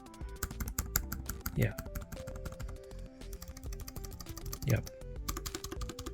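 Typing on a Lenovo SK-8855 membrane keyboard, a steady run of close, slightly rattly keystrokes, with someone briefly speaking over it.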